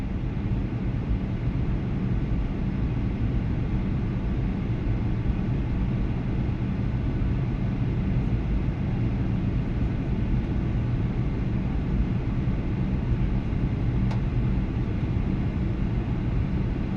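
Cabin noise aboard a Qantas airliner descending into Melbourne, a steady, loud, low-heavy rumble and rush of air that continues without a break, with no voices.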